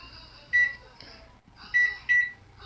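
A microwave oven beeps as its buttons are pressed to set the timer for steaming sticky rice: three short, clear electronic beeps, one and then two close together, over a faint background hum.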